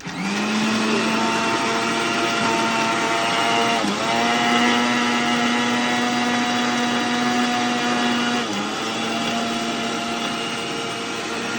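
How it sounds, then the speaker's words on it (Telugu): A mixie blender whirs steadily, blending banana pieces with cashews, cardamom and sugar into banana milk juice; a loud, continuous motor whine dips briefly twice as the load shifts. "ఇప్పుడు మిక్సీ చేసుకోవాలండి"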